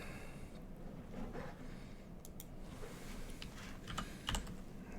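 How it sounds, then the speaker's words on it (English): Keys clatter in a quick, uneven run of typing on a computer keyboard, close and fairly quiet, with a few sharper clicks near the end and no talking. "I'll type that in."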